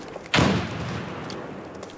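A grenade blows up in a competitive team shooter match, one sudden close boom with a heavy low thud that quickly fades into a short rumbling tail, alone with no voices.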